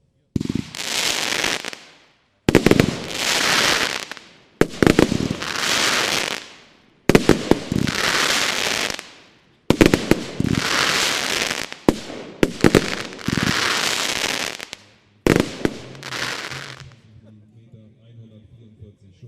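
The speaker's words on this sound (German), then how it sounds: "Weiter Nummer 55, Nordlicht, das Triple, 25 mm, 36 Schuss" A Nordlicht triple firework battery of 25 mm calibre and 36 shots fires in a steady sequence of about eight loud bursts, each a sharp launch crack then a crackling spread, near, ending in fading residue.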